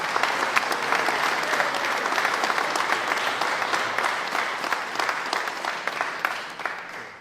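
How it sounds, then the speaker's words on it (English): Audience applause fills the room steadily, dense clapping from a large crowd holding even and fairly loud throughout, with no talk over it. "give them a big hand of applause"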